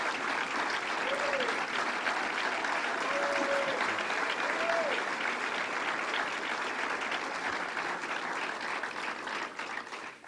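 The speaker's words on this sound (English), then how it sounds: "let us give you a round of applause" A crowd claps for state legislators at a New York State Fair announcement by Governor Cuomo, steady applause lasting ten seconds with faint voices and a brief tonal whistle-like sound mixed in, tapering near the end.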